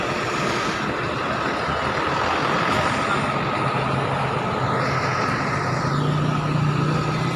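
A Mira bus rumbles in and pulls into a parking spot at a busy Jogja stop, a loud close diesel drone with traffic noise around it and a brief brake hiss near the end.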